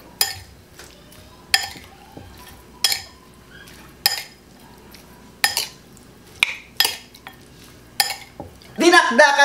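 Kilawin being stirred with soy sauce and calamansi in a dish, a spoon clinking sharply against the bowl at regular intervals over faint mixing, ending in a louder scraping flurry.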